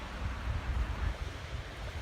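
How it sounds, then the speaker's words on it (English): Wind roaring over the forest canopy on an Appalachian Trail hike in the Roan Highlands, a steady low rumble with microphone buffeting throughout. "you can hear the wind just howling above us"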